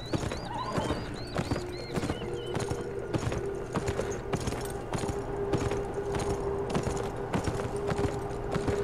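Horse hooves clip-clop steadily in the video game Beyond Two Souls, a regular rhythmic trot carrying close and clear, with a brief whinny early on and faint background game ambience.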